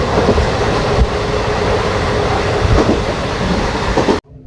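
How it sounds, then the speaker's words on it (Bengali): Passenger train from Bandel toward New Jalpaiguri pulling away and rolling on the rails, a loud, steady rumble with faint wheel clatter throughout, cutting off abruptly near the end. "আমাদের এখন ট্রেন ছেড়ে দিল"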